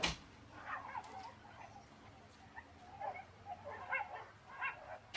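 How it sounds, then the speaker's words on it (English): Neighbouring dogs next door bark and yip in a scattered series of sharp, moderately distant bursts over quiet background. "the dogs next door are going crazy"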